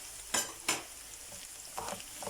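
A spoon stirs a potato bazlama filling seasoned with chili flakes, black pepper and salt in a pan, with a few scraping strokes and light clinks over a quiet background sizzle, faint overall.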